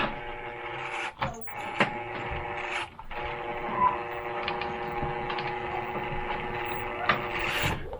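A Panda Hobby Tetra24 RC crawler runs with a twitchy, notchy motor, making a continuous electric whine with steady tones and occasional clicks and bumps as it works over an obstacle, close by and without speech.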